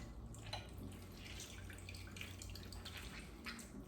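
Cooked beet greens squeezed by hand in a colander over a kitchen sink, releasing a soft steady trickle and patter of liquid, fairly faint and continuous, with no talk.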